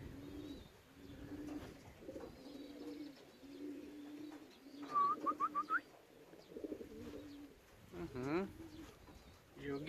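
Soft repeated cooing from a male racing pigeon returning from a 360 km race out of Mława, close and steady, broken by a few brighter chirps.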